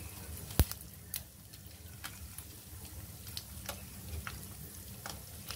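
Urad and chana dal with dried red chilies frying in hot oil for Telugu sesame pulihora, a steady soft sizzle with a few sharp crackles and pops, close and fairly quiet with no talk.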